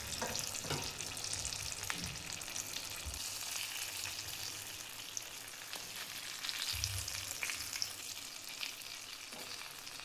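Stuffed green chillies frying in oil over a low flame give a steady, soft, even sizzle throughout, with a few faint knocks of the pan or spatula.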